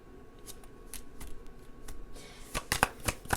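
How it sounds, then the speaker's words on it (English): Tarot cards being shuffled by hand in a series of crisp riffling bursts that start sparse and grow louder and denser toward the end, close up with no talking. "Just shuffle. That's what I do."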